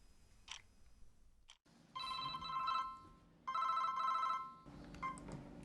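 An office telephone rings in two long electronic bursts with a short gap between them, preceded by brief clicks, fairly close and clear against a quiet room.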